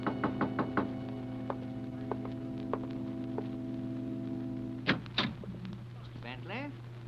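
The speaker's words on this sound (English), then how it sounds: "there was a knock on the door." A knock on a door in a 1946 radio drama: a quick series of sharp raps followed by a few sparser knocks over a steady mains hum, with a voice and another thud afterward.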